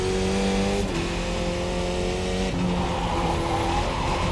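A race car in the iRacing video game sliding sideways, with a steady, loud engine drone and sustained tire squeal, no voices.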